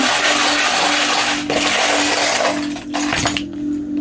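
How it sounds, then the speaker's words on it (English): Small charms are shuffled by hand for a pick-a-pile reading, a loud continuous jangle of metal and glassy clinks up close, with brief rattling bursts toward the end and no talk. "I'm gonna shuffle some charms here"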